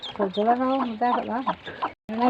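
A hen at home clucks in a run of close, throaty calls with rising and falling pitch, ending in a short pause and one more call.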